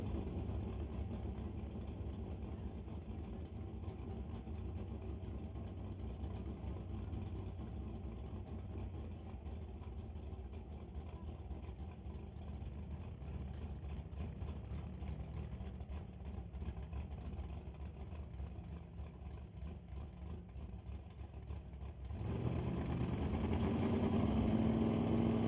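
Drag racing cars, a Malibu wagon with a BC Scale Johnson Customs exhaust against the JBS and JS Power Sports Ford Roadster, give off a steady, rough engine rumble from a distance. Near the end it swells into a louder, deeper roar.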